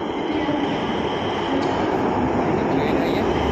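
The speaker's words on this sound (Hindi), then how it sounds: "ट्रेन आ रही है, मेट्रो ट्रेन है," A four-car metro train pulls into a station with a loud, steady rush of wheels and motor noise, bright hiss and a constant roar throughout.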